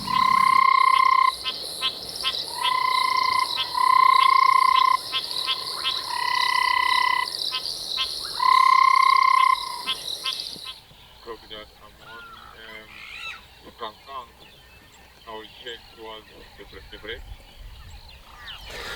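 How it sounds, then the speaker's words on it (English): Repeated frog calls from grassland in a South African game reserve at Londolozi, loud bursts of rapid trilling croaks in a regular series, followed by softer, scattered calls and insect chirps. "We did hear a frog calling from this area."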